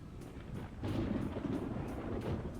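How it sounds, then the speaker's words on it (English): Thunder rumbles low and broad in Persona 4 Arena Ultimax, a deep rolling roar that swells after the first second and holds at a steady, moderate level without any voices. "we hear another roar of thunder closer to the one a moment ago"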